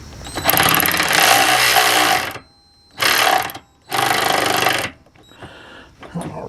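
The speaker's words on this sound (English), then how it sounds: "I brought my ratchet here. See if we can get these things snug down a little bit more here." A hand ratchet snugs down the mudflap bolts on a Ford Bronco, with three bursts of rapid, dense mechanical clicking close to the mic, then a quieter stretch of light handling noise.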